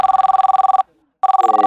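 Telephone bell rings loud and close in rapid trilled bursts, pausing briefly before ringing again, with no talk over it.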